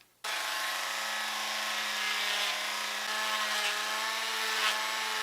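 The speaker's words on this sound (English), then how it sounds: "I'm going to be using this sanding drum here because this might go a little bit faster." A rotary tool fitted with a sanding drum grinds against a 3D printed plastic part, a steady high-pitched whine with continuous abrasive rasp that starts abruptly and runs unbroken before cutting off.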